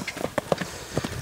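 Hooves of a three-year-old black Lusitano mare clip-clop on hard ground, a quick uneven run of close, crisp strikes in just over a second, with no voices.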